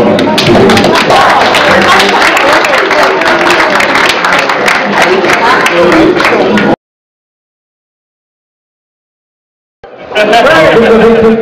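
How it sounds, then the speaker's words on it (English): Wedding guests at a civil ceremony break into loud, sustained applause and clapping with crowd chatter for several seconds, a brief silence, then the clapping resumes just as strongly. "Big round of applause, come on!"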